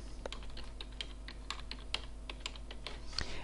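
Keystrokes on a computer keyboard, a run of sharp, scattered taps at an uneven typing pace, close and fairly quiet, with no voices.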